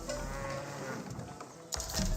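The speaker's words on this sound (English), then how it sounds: "I do hear some of the cows being on the field." Cattle lowing in Age of Empires 4, a steady, close moo that holds for well over a second against a constant background hum, then breaks off into a brief mix of in-game sounds.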